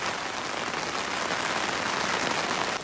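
Rain falls in a steady, dense hiss on surfaces outdoors, loud and even throughout with no voices.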